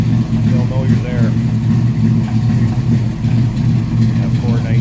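A 1972 Chevrolet Chevelle SS tribute with a 496 engine idles loudly and steadily close by, a deep lumpy rumble, with a voice talking over it at moments.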